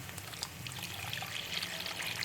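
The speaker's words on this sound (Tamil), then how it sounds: "இதில் கொஞ்சமாக தண்ணி ஊற்றிக்கலாம்." Water pours and trickles steadily into a pan of milk and flattened rice for aval payasam, a soft continuous splashing with no voices.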